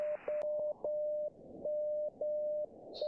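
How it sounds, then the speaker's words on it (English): A steady Morse code sidetone beeps out dashes and dots in a clean, even rhythm of sustained tones and short gaps, alone and fairly quiet, with a brief higher chirp at the end. "now we're going to take a look at Morse code"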